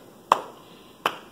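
Two sharp, isolated claps about three-quarters of a second apart, crisp and close, at a children's storytime sing-along, with nothing else heard between them.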